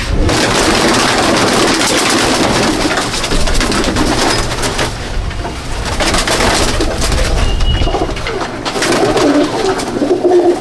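Pigeons coo steadily in a crowded loft in Jangipur, Murshidabad, their soft calls layered into a dense, continuous murmur with fluttering and rustling throughout.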